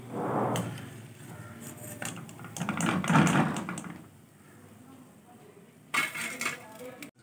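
Freshly fried potato samosas are lifted from hot oil and dropped into a metal strainer, giving a few short metallic clinks and scrapes in separate bursts over a quiet kitchen background.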